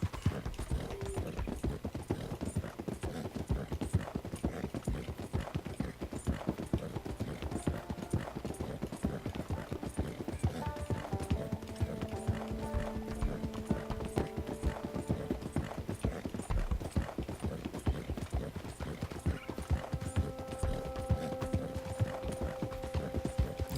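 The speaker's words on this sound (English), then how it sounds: "Horses seem to be riding a little bit slower than usual." Horse hooves clip-clop in a steady walking rhythm on a ground surface in the Red Dead Redemption II video game, moderately quiet and continuous, with faint mechanical clicks and tonal game sounds in the background.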